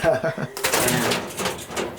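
Racing pigeons coo in a loft, soft rounded calls repeating close by, while people talk over them.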